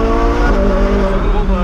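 A Ferrari is driving, its engine holding a steady, close, harmonic drone over a low rumble, with a faint suggestion of tire noise and muffled voices underneath.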